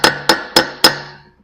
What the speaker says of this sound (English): we want to hammer in the axle out of the hub so that it's free to slide out